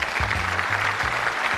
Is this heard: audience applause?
yes